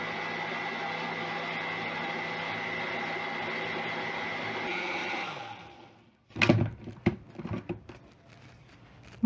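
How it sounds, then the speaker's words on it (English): A kitchen blender whirs steadily while blending a smoothie of milk, oats, banana and peanut butter, then cuts off, followed by a few sharp knocks and clatters as the jar is handled. "Cover, and then I'm going to blend."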